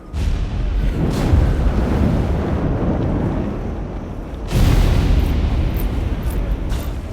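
Musket volley fire in the video game Flintlock: The Siege of Dawn: two loud, broad booming blasts, one at the start and another about four seconds later, each followed by a long rumbling decay.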